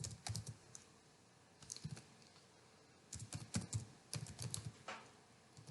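Code is typed on a computer keyboard in quick, soft clusters of keystrokes, with brief pauses between bursts, close and fairly quiet with no talking.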